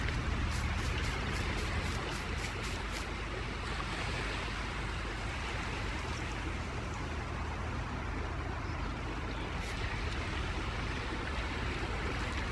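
Ocean surf rolls in Farming Simulator 19 on the Sandy Bay map as a loud, steady wash of breaking water with no pauses, a few light clicks near the start, and no speech.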